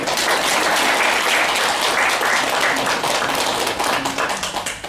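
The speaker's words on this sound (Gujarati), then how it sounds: "આમની ઓનેસ્ટી માટે જોરદાર તાળીઓ." Loud, dense applause from a meeting audience, many hands clapping at once in a continuous roar that begins to thin into scattered claps at the very end.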